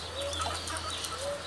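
Índio Gigante chickens on a farm cluck and murmur steadily, with a few higher squawks rising above the flock amid a constant low background hum.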